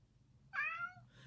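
One clear cat meow, rising and then falling, sounds close by against a faint low background hum.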